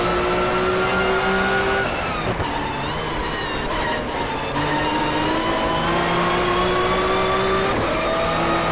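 1994 touring cars racing at Donington in the GTR2 racing game: engines whine and rev through gear changes, several cars close together, pitch rising and dropping with each shift, loud and continuous with no voices.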